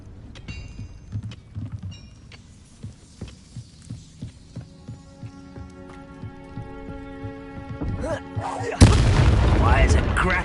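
Confringo fire spell in Hogwarts Legacy, a string of rhythmic thudding pulses with tonal game effects, ending in a sudden loud burst of blast noise.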